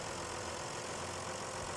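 Steady, unbroken drone of a John Deere tractor engine in a driving game, idling or running evenly at constant loudness with no voices.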